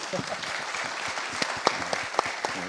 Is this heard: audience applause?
yes